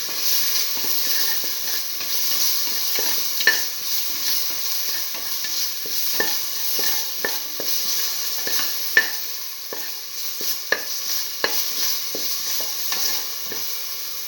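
Eggplant and split mung bean stew sizzles in a pan as salt is mixed in, a steady close hiss broken by repeated scraping taps of the stirring spoon.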